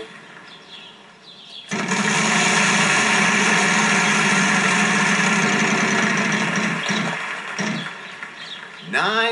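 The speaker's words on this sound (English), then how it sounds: "Okay, I still spin the wheel." In the PS3 Wheel of Fortune video game, the prize wheel spins as a long, steady, loud whirring drone that holds for several seconds, then dips and fades near the end before a short burst of other game sound.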